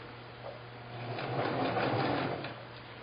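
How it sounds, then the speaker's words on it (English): A sewing machine runs steadily, stitching quilt pieces together for a spiderweb quilt, its motor hum rising slightly in the middle, close and alone. "We're going to start sewing."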